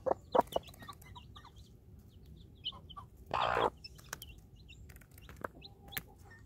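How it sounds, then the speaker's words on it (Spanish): A hen clucks near three-day-old chicks, with a few sharp cluck bursts, one louder buzzy call midway, and faint soft peeps around them in a quiet setting. "son muy chicos los pollos"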